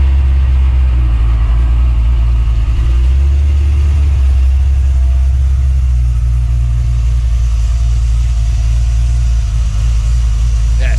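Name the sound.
1966 Chrysler 300 engine running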